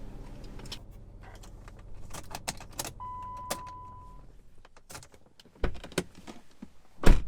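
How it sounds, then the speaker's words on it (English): A Chrysler vehicle is switched off as its engine hum fades out partway through, and a single tone sounds briefly. Keys clink and jangle in scattered, sharp bursts before and after the engine stops. "Let me get this vehicle turned off."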